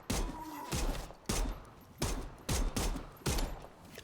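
Bursts of rapid gunfire in the zombie video game Dead Island 2, about six loud volleys in quick succession, each separated by brief gaps.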